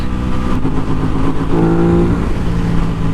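An Aprilia RS 660 motorcycle engine revs under throttle, a loud close droning buzz with a rising pitch swell midway, heard alone without talk.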